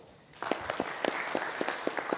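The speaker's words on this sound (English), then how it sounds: "A round of applause for her." Applause from a conference audience at a Pan African gathering, starting after a quiet moment and continuing as scattered, fairly distinct claps at moderate distance.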